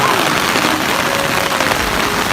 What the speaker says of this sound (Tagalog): Grabe ulan guys.